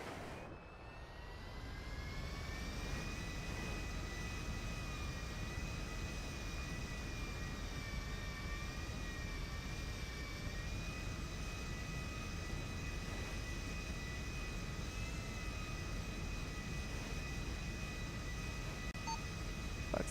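Steady jet engine whine and roar of an airliner taxiing off the runway after landing in a GTA roleplay game, a continuous close drone with a high tonal whistle throughout, no voices.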